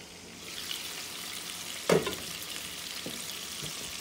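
A burger patty sizzles in a covered pan, a steady soft frying hiss with a brief louder crackle partway through, no talking.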